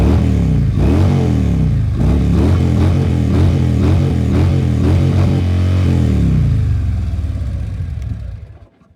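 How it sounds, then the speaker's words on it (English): A Harley-Davidson CVO (2023 or newer) revs its exhaust in a run of rapid throttle blips, loud and close, then falls to a settling idle that fades out. "these microphones never pick up the sound of an exhaust right"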